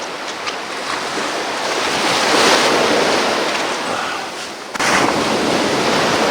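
Ocean waves wash steadily against the shore at first light, a broad continuous rush with wind buffeting the microphone, heard alone with no voices.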